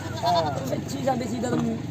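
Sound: goat bleating at a goat market

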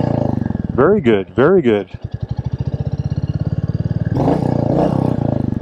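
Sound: Royal Enfield Meteor 350 motorcycle engine revving

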